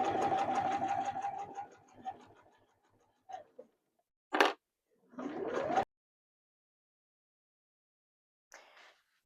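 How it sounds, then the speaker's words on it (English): A sewing machine stitches a seam on bag fabric, running steadily for about two seconds, then stopping and starting in short bursts with a rising whir, all close and fairly loud with no talk. "So you want to sew this line sort of within the 1 centimetre seam allowance"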